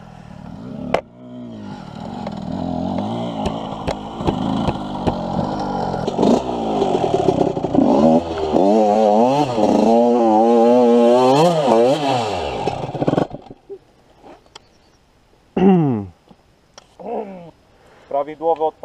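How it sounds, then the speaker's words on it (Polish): A Honda motorcycle engine is started and revved repeatedly, its loud, close engine note rising and falling in sweeping surges before cutting out, followed by short bursts of people talking. "Prawidłowe odpalanie hondy"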